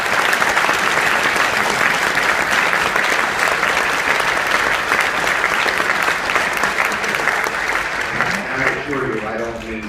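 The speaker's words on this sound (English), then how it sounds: "I'd ask everybody to give him and the coaching staff just a great round of applause." Sustained applause from a football banquet audience honoring the coaching staff at Shawnee, steady and full for most of the stretch, with a voice rising over the tail end as the clapping thins.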